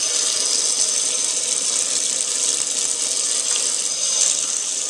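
A continuous stream of running tap water rinsing a soapy, oily nitro engine air filter, a steady close hiss and splash that never lets up, with no voices.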